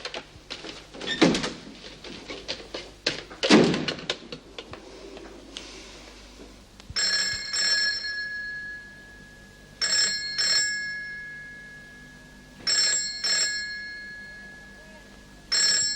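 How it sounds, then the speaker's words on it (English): Telephone bell ringing in repeated short double bursts at a steady rhythm, fairly clear in an indoor room, after some earlier knocks and movement. "Gwen, can't you hear the phone?"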